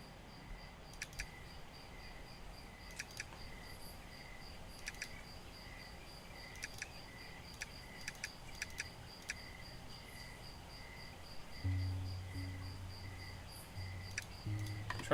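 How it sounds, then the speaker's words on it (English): Crickets chirp in the video game Mudborne, a steady ambient chorus of short repeated pulses with sharp ticks scattered through, joined near the end by a low hum. "trying to turn things up so that you can hear the crickets more"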